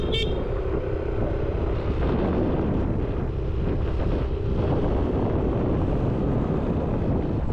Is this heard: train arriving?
no